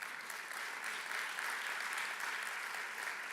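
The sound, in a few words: round of applause at a business conference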